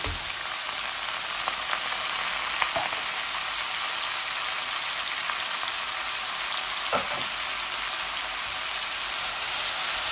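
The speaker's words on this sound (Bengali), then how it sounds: "পেঁয়াজগুলো ভাজা ভাজা হোক।" Onions frying in a pan give a steady, even sizzle that fills the whole stretch, with a few faint clicks of a utensil and no voices.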